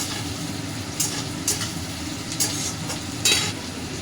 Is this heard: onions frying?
yes